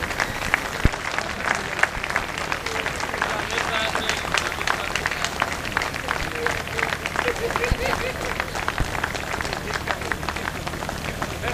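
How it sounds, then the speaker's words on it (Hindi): Sustained audience applause at a lamp-lighting ceremony opening a mushaira (poetry gathering) in Gopalganj, dense steady clapping from a large crowd continuing throughout with faint voices underneath. "जोरदार तालियां बजे और उतने देर तक आप बजाते रहें जितने देर तक यह कार्यक्रम चलता है।"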